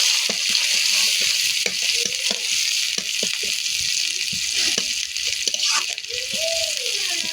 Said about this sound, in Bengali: তেলে আমি রসুনের ছাঁটা দিয়ে দিলাম